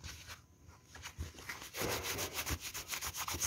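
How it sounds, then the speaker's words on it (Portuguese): Fabric being scrubbed with alcohol to lift a pen stain gives a steady, close rubbing and swishing texture with repeated strokes that grow louder after a brief quiet moment. "E esfregando que vai sair."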